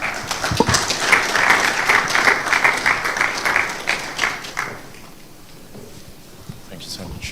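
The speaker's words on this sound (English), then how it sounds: "A round of applause again." Audience applause at a fintech forum in Freetown, Sierra Leone, following a speech: a dense burst of clapping that fades out after about five seconds, with voices talking over it.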